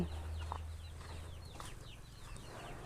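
Laying hens on a small backyard farm cluck softly, with scattered short calls over a low hum. The birds sound fairly distant and faint, and nobody speaks.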